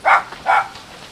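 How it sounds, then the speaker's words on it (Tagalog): Two short, loud barks from a dog, close by, separated by a brief pause and ending in quiet. "Bark!"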